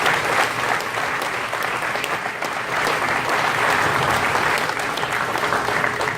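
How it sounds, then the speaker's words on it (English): Loud, sustained applause from a crowd gathered at a sign-making business, dense and steady clapping throughout with no pause. "a big round of applause for all that"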